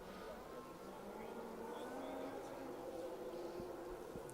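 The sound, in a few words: rally car engine revving through forest stage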